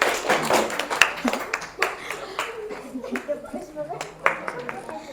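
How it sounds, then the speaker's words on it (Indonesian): Scattered hand claps ring out in a small group in a classroom lesson, uneven and fairly close, with voices murmuring underneath. "Beri tepuk tangan untuk kelompoknya Wahyudi."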